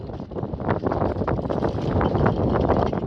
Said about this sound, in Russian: Сейчас очень сильный ветер.